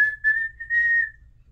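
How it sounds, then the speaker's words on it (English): A person whistles a short, clear, high tone in a few brief, close bursts that hold steady and then fade. "Can you whistle? I can whistle."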